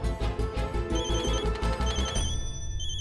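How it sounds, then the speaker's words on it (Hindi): A telephone bell rings repeatedly over busy, dense background music, the ringing continuing steadily throughout. "किसका फोन है? जल्दी देखो।"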